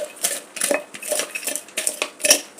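A drinking glass is pressed and rolled over cooled roasted peanuts to rub off their skins, giving quick clattering crunches and scrapes in irregular bursts, close and fairly loud.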